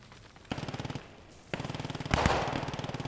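Rapid bursts of machine gun fire in the WWII shooter Post Scriptum rattle in steady rhythmic volleys, pausing between strings, with a louder nearby blast partway through and no talking.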